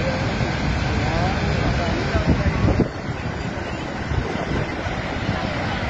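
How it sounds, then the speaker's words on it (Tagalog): Niagara Falls pours in a continuous broadband roar of falling water with wind buffeting the microphone, a steady loud wash with a short gusty burst partway through. "Isipin mo yung bagsak ng tubig niya."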